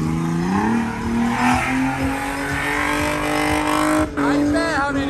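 A new race car with a 3.0 engine, the Omega 3.0, revs and accelerates on a race track, its loud engine whine climbing through gears with a brief drop near the end and a faint voice underneath.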